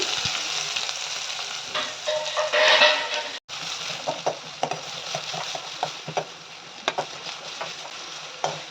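Onions and asafoetida sizzle and crackle in hot oil in a pan, a steady close frying hiss with scattered pops and a brief stir, with no talking.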